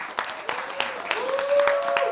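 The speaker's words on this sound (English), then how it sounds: "Let's give a big round of applause for Justin Watson." Audience applause and cheering for artist Justin Watson at a library event, a brief, steady wash of clapping with whoops and voices mixed in.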